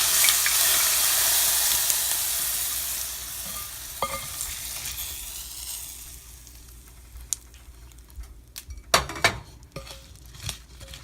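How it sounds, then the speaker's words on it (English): Hot oil poured over cut mangoes for an instant mango pickle, a loud sizzling hiss at first that fades over several seconds, followed by a few sharp clinks and stirring sounds of a utensil against the pot. "Pour the hot oil"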